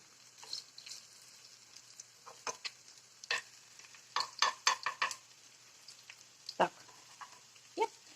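A breakfast filling fries in a pan with a faint, steady sizzle, broken by sharp scrapes and clinks of a utensil against the pan.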